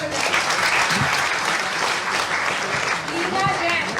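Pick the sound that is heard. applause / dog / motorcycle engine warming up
applause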